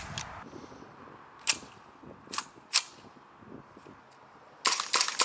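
EMG Daniel Defense M4A1 MK18 gas blowback airsoft rifle firing, a few sharp separate shots with the buffer spring's snap, then a quick burst of rapid reports at the end, close and clear with no talking.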